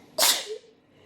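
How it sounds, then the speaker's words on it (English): A single sharp sneeze bursts out close and loud, followed by a brief fading breathy tail, with quiet room tone around it. "sorry, I need to sneeze."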